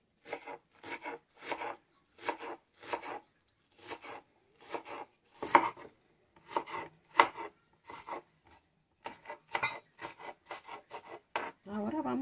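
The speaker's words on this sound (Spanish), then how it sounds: "Ahora vamos a partir la cebolla. La vamos a partir en cuadritos." Onion is chopped into small cubes on a board, a rhythmic series of crisp knife strikes in quick bursts separated by short pauses, close and dry, with no talk over it.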